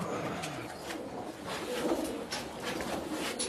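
Pigeons coo softly and steadily at a racing pigeon loft, a low continuous murmur of several birds close by with no talking.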